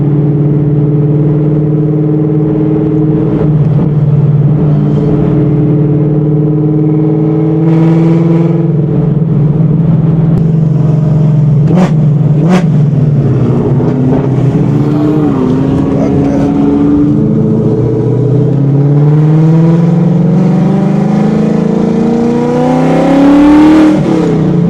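A drift-built Ford Mustang on a test drive, heard from inside the car, holds a loud, continuous engine drone that rises and falls through the gears and climbs steeply near the end.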